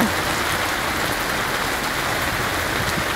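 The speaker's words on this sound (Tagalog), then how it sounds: "Ayan o, ang lakas ng ulan o." Steady downpour of heavy rain at SM Fairview, a constant loud wash of drops striking nearby surfaces.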